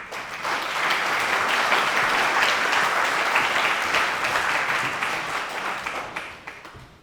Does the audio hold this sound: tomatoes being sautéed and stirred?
no